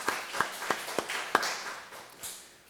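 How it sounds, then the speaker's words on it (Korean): Church congregation at a special prayer service clapping for the women deacons who serve as ushers, heard as a handful of sharp separate claps spaced across a couple of seconds, fairly faint and loose rather than a full burst of applause. "안내 사역하는 권사님들 박수하겠습니다"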